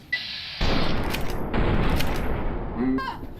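Gunfire and a grenade explosion in the video game Fallout: New Vegas, with sharp bursts and loud booming blasts filling the clip, followed by a short mechanical clatter near the end.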